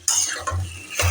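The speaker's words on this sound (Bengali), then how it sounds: "নুন হলুদ লঙ্কা সব সুন্দর করে মিশিয়ে দেব।" Taro leaves with salt, turmeric and chili are stirred in a pan, giving a few close scraping and rustling sweeps over a faint sizzle, with no one speaking.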